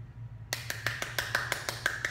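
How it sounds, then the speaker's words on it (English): A run of about ten quick, sharp hand claps, evenly spaced and close, over a low steady hum, with no talk during the clapping. "That's his happy clap."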